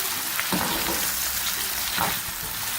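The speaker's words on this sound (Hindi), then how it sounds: "प्याजों को भी हम थोड़ा सा फ्राई करेंगे, बहुत ज़्यादा ब्राउन नहीं करेंगे" Two large onions fry steadily in hot oil for keema karela, a dense, even sizzle close up with a couple of soft stirring scrapes and no talking.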